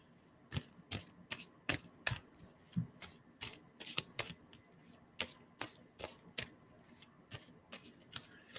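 Tarot cards are shuffled by hand, producing a series of quiet, crisp riffling bursts in a fairly regular rhythm, close by and heard alone.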